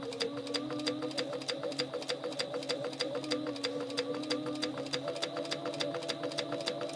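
Close and steady, a sewing machine back stitches a fabric pouch in one continuous run of fast, evenly spaced needle clicks over a constant motor whir.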